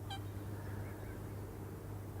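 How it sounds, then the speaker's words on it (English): Waterfowl calling at a carp fishing lake in early morning, a single short honking call near the start, then a steady low background hum with no further calls. "we've been plagued with ducks"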